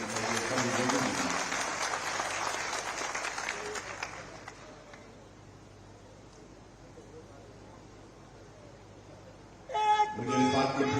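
A crowd at a political rally for a foundation-stone ceremony in Una claps loudly at first, then the applause fades away over a few seconds into near quiet before a voice abruptly starts up again.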